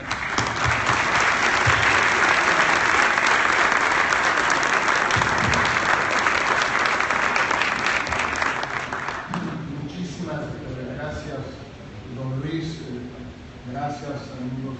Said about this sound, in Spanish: Recibamos, pues, con un fuerte aplauso